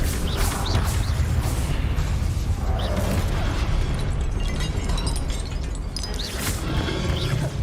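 A blasting spell goes off in a video game as a string of loud, booming explosions with crackling bursts, continuous and close for several seconds.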